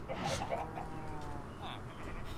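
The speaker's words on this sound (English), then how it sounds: "We gotta keep checking the chickens to try to get, the eggs." Chickens clucking inside a survival video game, several short clucks and a rising cackle heard close and fairly loud, with faint background ambience and no clear talking over them.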